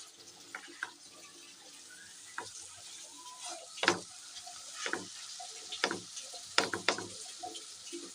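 Beetroot cooking in a pan with ghee and lemon juice: a soft sizzle under repeated scraping and clattering of a spoon against the pan, in irregular bursts, close and fairly quiet, with no one speaking.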